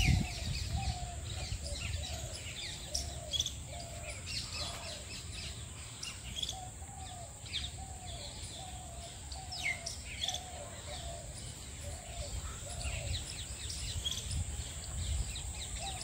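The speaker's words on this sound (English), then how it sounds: "Look at that green parrot." A green parrot calls in a steady series of short, evenly spaced notes amid the ruins and trees of The Residency in Lucknow, with a background of insects and other birds.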